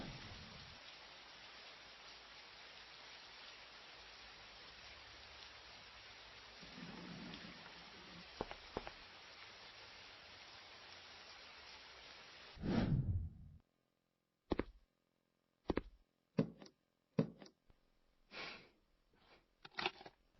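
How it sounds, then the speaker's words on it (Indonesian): Heavy rain falls as a steady faint hiss with a low rumble, then cuts off, followed by a few separate close knocks and thuds. "Hujannya deras sekali."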